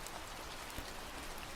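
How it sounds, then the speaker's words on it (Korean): Steady, gentle rain patters on a car from the inside, a soft continuous hiss of drops with no voices. "그녀가 제일 좋아한다는 차 안에서 듣는 빗소리"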